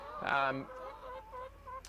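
Hens clucking at Clark Farm, a CSA farm in Carlisle, Massachusetts, with one louder squawk followed by softer, drawn-out clucks close by in a quiet setting.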